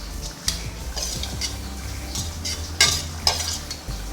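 Egg potato sandwich filling with pepper, salt and chopped onion is mixed by hand or spoon in a bowl, giving close, squishy stirring with a few sharp clicks of utensil against the dish.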